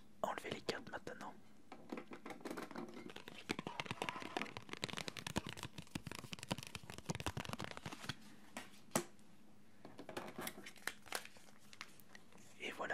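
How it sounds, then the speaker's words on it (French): Pokémon trading cards from a Pikachu EX box are pulled out and handled up close, a continuous stream of crisp crinkling, sliding and flicking card sounds under soft whispering. "Alors on va enlever les cartes maintenant."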